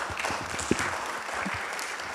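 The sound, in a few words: applause at Athens Democracy Forum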